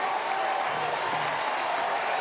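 A baseball crowd at the Bosch in Chapel Hill rises and cheers, a dense, steady roar of applause and voices that fills the stadium evenly throughout.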